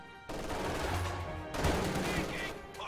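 Maxim heavy machine gun firing in a wartime strategy video game, dense rapid bursts of gunfire that start abruptly and continue in overlapping volleys, fairly loud amid battle noise.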